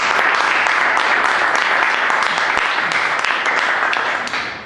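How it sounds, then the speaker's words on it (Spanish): An audience at a Spanish book presentation claps continuously in dense, even applause that fills the room and tapers slightly at the end. "a quien recibamos con un aplauso"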